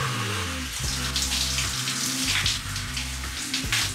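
Water from a shower runs steadily, a dense, continuous hiss and patter that stays loud and close throughout with no voices.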